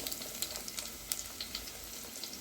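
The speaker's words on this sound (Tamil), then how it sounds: "கடுகு நல்லா பொரிஞ்சோன்னே அதை சேர்த்துக்கலாம் வெங்காயத்தை சேர்த்துக்கிடுவோம்" Mustard seeds crackling in hot oil as the base for a village-style dried fish curry, with onions about to go in; scattered small pops and faint hiss, fairly quiet and steady throughout.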